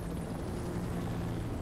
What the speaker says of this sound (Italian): Ehi, quanto grande questo elicottero.